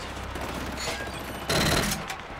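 Gunfire rings out in the shooter Killzone Shadow Fall, a low rumbling backdrop broken by a loud, dense burst of shots in the second half, then quieter.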